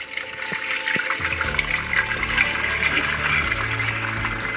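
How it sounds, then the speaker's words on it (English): Melted beeswax pours through cheesecloth while being rendered, giving a steady liquid trickle and splatter with a low continuous flow that thickens after the first second. "Now pour the melted wax through the cheesecloth."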